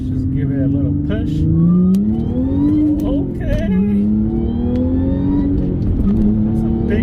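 A supercharged 2010 Audi B8 S4 with a six-speed manual and a Stage 1 tune accelerates hard, its engine note climbing through the revs with a brief dip at a shift before pulling again, loud and close, with a voice briefly speaking.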